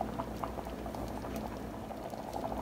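Rajma curry simmers on low heat in a pot, giving a continuous soft bubbling and popping with faint spatters, close by and steady, with no voices.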